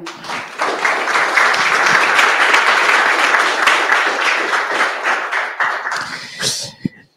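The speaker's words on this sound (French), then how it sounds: "Vous pouvez l'applaudir." An audience applauds a speaker at the close of a tech talk, with dense sustained clapping that fades out near the end, followed by a few sharp knocks.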